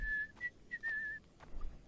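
Whistled notes from a person in a Polish-language playthrough of The Witcher 2's Arena mode, a few short clear tones in a broken phrase over quiet background hum.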